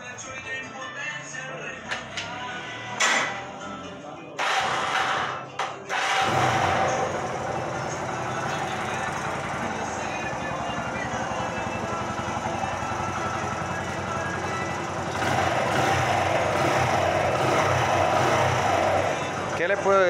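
A Victory One ST 100cc motorcycle engine cranks and catches after a few short bursts, then settles into a steady, fairly loud idle that runs on with a brief rise in level near the end, with voices talking over it.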